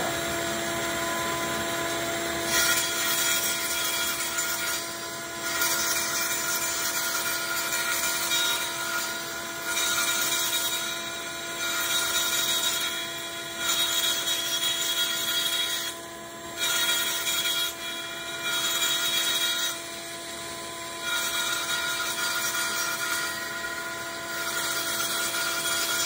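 Saw cutting kerfs into wood held against a fence, a sustained high buzzing whine with repeated cuts separated by brief dips, loud and close with no talk.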